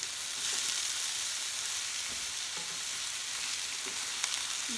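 Zucchini and squash fry in a pan with a constant close sizzle and occasional scraping taps as the vegetables are stirred; no one talks.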